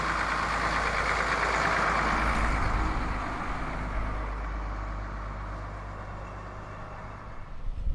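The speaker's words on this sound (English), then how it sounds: "The Leyland Lion seems to be a popular choice for people getting around Beamish." Vintage Leyland Lion bus driving at Beamish, its engine a loud, steady rumble and drone that gradually eases off as it passes, with no talking over it.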